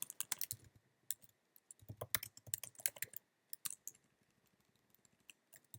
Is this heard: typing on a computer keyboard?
yes